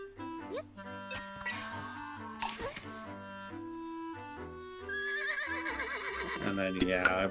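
A horse neighs in the video game Zelda: Echoes of Wisdom, its whinnies rising over layered game music and effects, with a busier, brighter passage toward the end.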